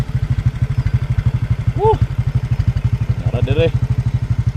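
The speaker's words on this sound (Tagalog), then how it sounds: "Nara tong motor." A motorcycle on a steep slope throbs in a fast, even engine beat, loud and close throughout, while a person briefly speaks over it.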